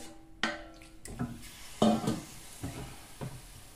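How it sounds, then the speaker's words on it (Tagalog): Chicken frying in a kawali while being stirred: a handful of short scrapes and knocks of a utensil against the pan over a faint, low sizzle, with no talking. "ilagay na natin ang ating chicken sa ating kawali"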